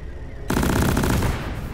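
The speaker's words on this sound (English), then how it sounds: "We got a burst turret here!" A burst turret in the game Deep Rock Galactic opens fire with a sudden, loud, rapid stream of close mechanical shots that continues steadily without pause.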